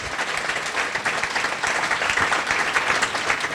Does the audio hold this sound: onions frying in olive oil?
no